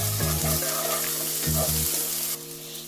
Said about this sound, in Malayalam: ഇനി ഇതിലേക്ക് നമുക്ക് ഇഞ്ചി, പച്ചമുളക്, വെളുത്തുള്ളി ചതച്ചത് ഇട്ട് കൊടുക്കാം. ഇനി നന്നായി മിക്സ് ചെയ്യാം.